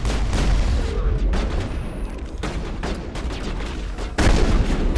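Mass Effect combat on Veteran difficulty: loud continuous gunfire with booming grenade blasts, a heavy burst near the end, dense and close with no clear talk.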